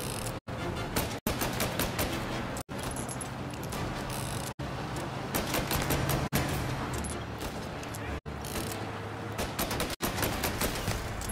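Sustained gunfire in the video game Mafia Definitive Edition, loud and dense, with rapid shots running almost continuously and broken by several brief dropouts.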